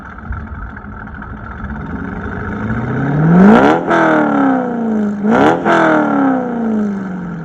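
A Corvette engine revs up twice through a deep Corsa exhaust, pitch climbing sharply then dropping back, loud and close over a steady idle.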